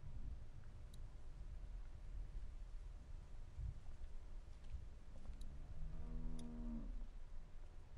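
A cow in The Walking Dead game gives a single low, drawn-out moo near the end over a steady wind-like ambient hiss, with faint ticks scattered through the background.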